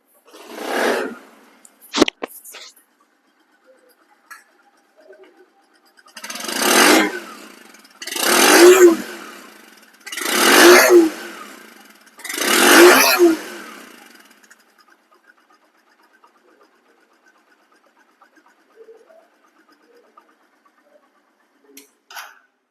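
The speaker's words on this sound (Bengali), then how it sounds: "আমি কিক দিচ্ছি দেখেন বাস স্টার্ট হয়ে গেছে" A Bajaj Platina 100cc motorcycle engine fires after a kick start and is revved in four strong, evenly spaced bursts, each rising and falling back, then settles to a faint idle among quiet background sounds.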